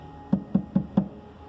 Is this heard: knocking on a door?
yes